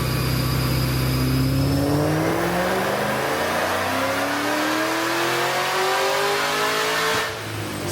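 A supercharged 2012 Shelby Mustang GT500 on E85 revs up steadily through a long, loud dyno pull, pitch climbing smoothly for several seconds before cutting off abruptly near the end.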